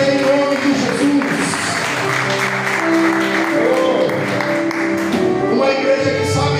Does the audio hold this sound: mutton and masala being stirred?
no